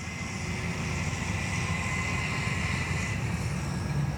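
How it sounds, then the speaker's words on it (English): A radio-controlled X-Fly Spitfire warbird model plane flies past with its landing gear and flaps down, giving a steady, even motor drone throughout with no voices. "Man, is she a good flying plane."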